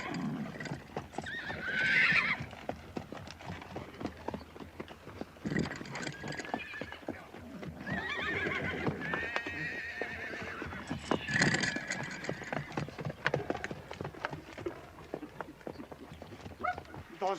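Many horses whinny and neigh amid a steady clatter of hooves, with a dog barking now and then and people talking over the commotion.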